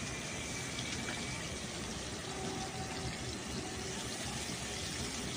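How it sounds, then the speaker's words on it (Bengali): Water is poured into a pan of frying spices, turmeric and salt, for a Bengali mustard hilsa curry. A steady, broadband rushing and gushing runs for the whole stretch at moderate level, with no speech over it. "এইবারে আমি দিয়ে দেবো জল"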